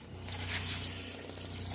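A hot water tap runs in an RV water system, giving a steady rushing hiss of water flowing with a low constant hum underneath, continuous and close throughout.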